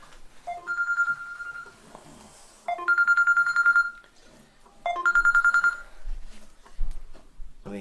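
A telephone rings three times in a lecture hall, each ring a loud electronic trill lasting about a second, separated by pauses.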